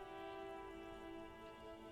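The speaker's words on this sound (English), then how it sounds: "It's raining again." Rain in the video game Disco Elysium falls as a faint, steady hiss behind a sustained ambient musical drone, with no voices.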